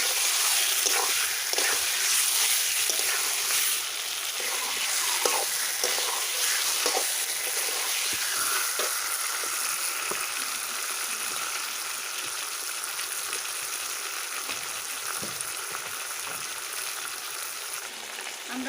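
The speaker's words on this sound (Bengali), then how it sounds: "মাংসটা ভালো করে কষিয়ে নেব, মশলাটা কষানো হবে।" Chicken pieces with spices sautéing in a pan for a Bengali chicken and potato curry, giving a steady, close sizzle with soft stirring scrapes throughout and no talking.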